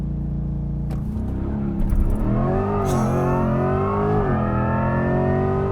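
A 2024 Chevrolet Corvette E-Ray launching hard under launch control, its engine note rising steadily in pitch through the gears, loud and close from inside the car, with no talk.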